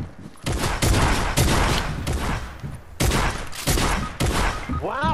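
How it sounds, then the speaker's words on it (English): Gunfire in the video game Fortnite comes as dense, loud bursts of rapid shots in several volleys with brief gaps between, dominating the mix. "Bro, I don't know where I'm getting shot from."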